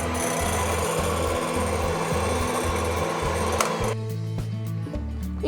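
An electric mixer whirs at its second speed, beating egg for homemade mayonnaise: a loud, steady motor drone with a pulsing, rhythmic churn, close up, with no voices.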